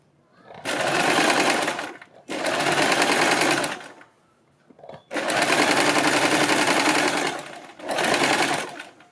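A sewing machine runs long gathering stitches on a frock in four loud, close bursts of rapid whirring, separated by short pauses.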